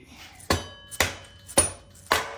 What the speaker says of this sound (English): And then I'll get a mallet and we should be able to knock that sucker out.